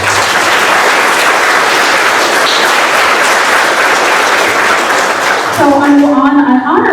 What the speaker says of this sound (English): You and Fred both deserve a round of applause for all of your work.